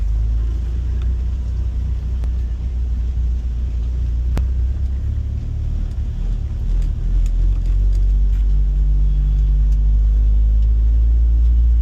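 A 2005 Honda S2000 with 31k miles, running on E85, fires up and pulls away: a steady low engine rumble and road drone from inside the cabin, loud and continuous with no talking.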